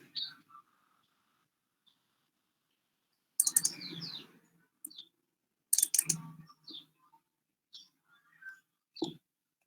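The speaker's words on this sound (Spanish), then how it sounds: "Voy a darle doble clic al scope." Brief clicks of a computer mouse during a physics simulation class, sounding between stretches of speech; a few short, sharp taps land near the end, close by.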